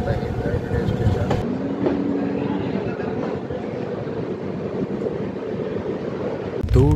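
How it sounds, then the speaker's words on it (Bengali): Puri Garib Rath Express running at full speed at night, heard from inside the coach as a steady, loud rumble and rattle of wheels on track, continuous throughout with no voices. "ট্রেন তখন ছুঁয়ে ফেলেছে তার সর্বোচ্চ গতিবেগ"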